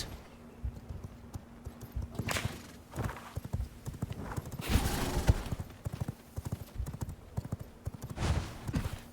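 An upgraded horse gallops in the video game V Rising, a steady rapid clip-clop of hooves with a brief whinny and some in-game effects, fairly loud and close, with no talk.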